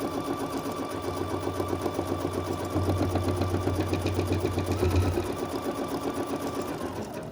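Embroidery machine stitching a small pocket on fabric held in the hoop for a needle organizer: a steady, rapid mechanical chatter of the needle, loud and close, with a low motor hum that drops away partway through.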